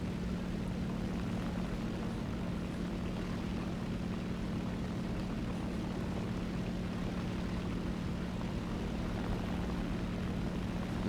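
Propeller aircraft in the Roblox War Thunder game, a steady droning engine hum that holds at an even, fairly loud level throughout with no talking.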